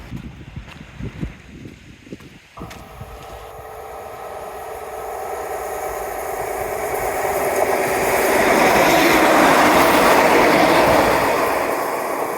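A train rumbles past, a steady low roar swelling in loudness toward the end, with rattling and clatter from the cars and no voices.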